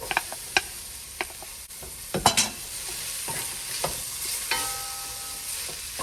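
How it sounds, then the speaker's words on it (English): Sweet pepper goes into a pot of veggie stew and sizzles, with spoon clicks and scraping stirs punctuating a steady close hiss, with a louder burst of stirring midway and no one talking. "Now I'm going to add the sweet pepper."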